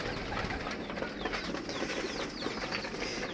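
Lotan and local pigeons inside a pigeon loft, with steady close wing flapping and rustling that carries soft coos, all blended into a dense continuous bustle.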